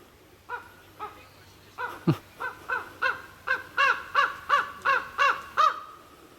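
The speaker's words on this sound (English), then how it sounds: "big raven up there, a couple of them." A big raven by a lake gives a long series of loud, hoarse caws at a steady, quickening rhythm, close by, with one brief low thump near the start and no voices.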